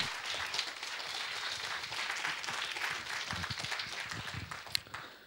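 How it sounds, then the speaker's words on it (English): An audience at a game development hackathon finals applauds a team, a dense, continuous round of clapping that holds steady for several seconds before tapering off. "Please give a round of applause to Team Rat 6."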